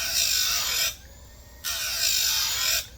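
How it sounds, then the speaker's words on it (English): A small plastic sharpener working the chain of a Husqvarna 357XP chainsaw gives two close, harsh grinding bursts of roughly a second each, separated by a short quiet pause. "this little thing actually sharpens a chain real nice"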